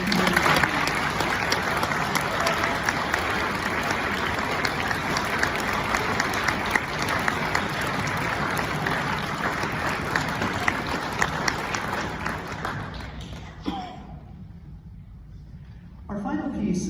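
Dense, loud audience applause at a UNK university band concert, sustained for about thirteen seconds before fading out quickly into near quiet.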